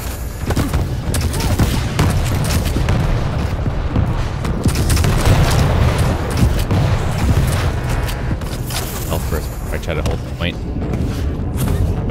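Rocket blasts and rapid gunfire in Quake Champions fill a dense, loud barrage of booms and shots, with a player's voice talking over the constant combat.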